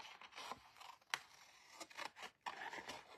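Scissors fussy-cutting paper butterflies for a card, a series of quiet close snips and crisp paper scrapes at an irregular pace.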